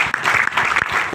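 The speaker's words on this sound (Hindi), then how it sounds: "तो एक बार जोरदार तालियां।" A short loud burst of audience clapping at a company plan presentation, quick overlapping claps in a crowded room.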